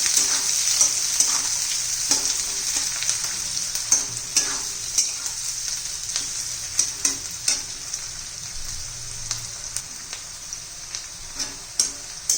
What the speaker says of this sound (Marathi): आपला कांदा हळदी आणि मिरची परतून तर आपण आता टोमॅटो घालणार आहोत